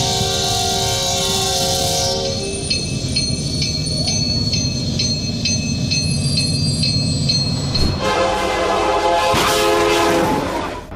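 A Union Pacific freight train sounds its loud, sustained chord horn near a crossing, with a blast at the start and another near the end. Heavy rolling rumble and wheel noise fill the stretch in between.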